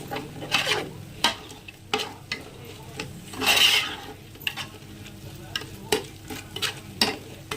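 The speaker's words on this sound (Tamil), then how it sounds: "கொத்தமல்லி போட்டு நல்லா வாசம் ஸ்மெல் வர வரையில நீங்கள் வதக்குங்க" Coriander is sautéed in a frying pan: repeated spatula scrapes and stirring strokes over a soft, steady sizzle, close up.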